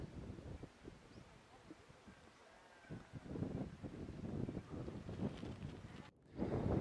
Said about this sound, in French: il commence à faire froid avec le vent